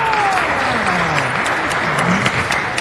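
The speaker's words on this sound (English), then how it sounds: "is that clapping for Homeboy Industries or for the speaker?" Applause from an audience at a city council meeting, a steady, loud wash of many hands clapping close by, with faint voices mixed in.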